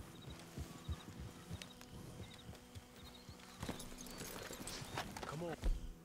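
Horse hooves clip-clop at a slow walk on a trail in the video game Red Dead Redemption 2, soft and steady under a quiet ambient bed with faint insects and a voice talking.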